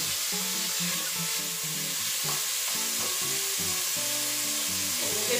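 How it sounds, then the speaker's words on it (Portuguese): Pork ribs sauté in a pan, releasing their fat with a steady, close sizzle broken by repeated stirring scrapes and clatter, no talk. "Vou refogar aqui um pouco. Deixar eles liberarem um pouco da gordura deles."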